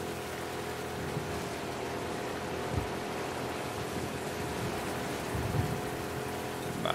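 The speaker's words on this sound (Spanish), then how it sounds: "Se escucha más alto el tema de la lluvia que otra cosa" Steady rain falling in the video game The Last of Us Part II, a constant broadband hiss with patter on surfaces and a low rumble beneath, moderately loud and continuous with no talking.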